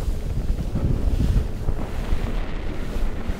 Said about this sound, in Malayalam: നല്ല കാറ്റടിക്കുന്നുണ്ടോ